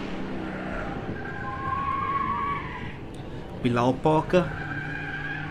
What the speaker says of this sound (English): You got a BMW now out on circuit.